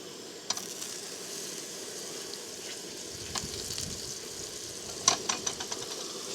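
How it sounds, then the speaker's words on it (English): A generous amount of butter sizzling in a hot pan over low to medium heat, a close, continuous hiss with occasional sharp spits and a brief cluster of crackles near the end, with no talking. "I'm just going to add a lot of butter."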